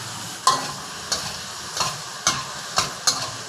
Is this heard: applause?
no